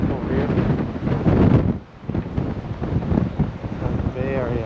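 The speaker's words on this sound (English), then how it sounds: "Super windy view here." Strong wind buffets the microphone on top of Fort Point overlooking the San Francisco Bay, a loud, gusty roar with a brief lull midway, while someone talks over it.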